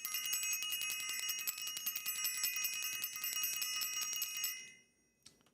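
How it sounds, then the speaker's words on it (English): A bicycle-style bell rung rapidly and continuously, a bright metallic trill of fast repeated strikes lasting over four seconds before stopping, followed by one faint final ding. "Let me ring the bell."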